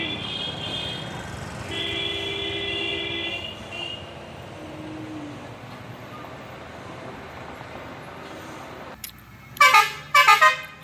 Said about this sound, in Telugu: heavy load lorry.